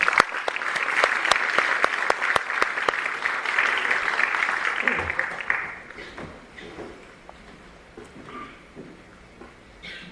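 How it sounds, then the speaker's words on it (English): A crowd applauds to welcome the High Commissioner of India to Singapore at a United Nations non-violence day event, with sharp individual claps over a dense roll that fades away after about six seconds. "Let's give him a warm round of applause."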